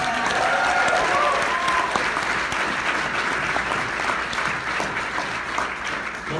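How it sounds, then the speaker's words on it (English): A large audience applauds at an international summit gathering, a dense steady wash of many hands clapping that holds loud and even throughout, with faint voices underneath. "Let's give them a round of applause, right?"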